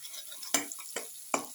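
A utensil scrapes and stirs through a thick fish stew mixture with turmeric in a pan, three distinct strokes over a faint, steady sizzle.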